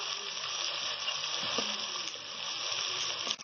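Liver frying in a pan with garlic-ginger paste for a masala kaleji, a steady close sizzle and crackle running throughout with faint stirring clicks, no voices.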